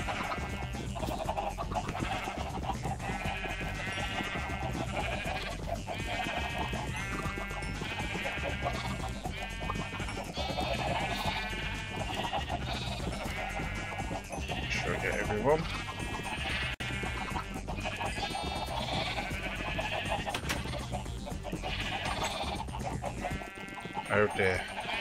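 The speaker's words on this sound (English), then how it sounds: "Let's breed up our sheep" Sheep in the Minecraft video game bleat repeatedly across the clip, layered over steady in-game music or ambience and a voice talking throughout.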